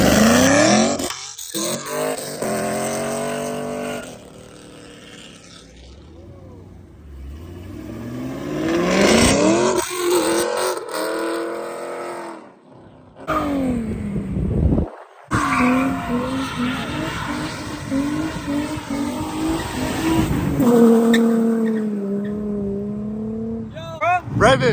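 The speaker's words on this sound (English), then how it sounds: "Rev it." Cars revving and accelerating at a Memphis car meet, with loud engine roars rising and falling, bursts of tire squeal, and excited people shouting and talking over the noise throughout.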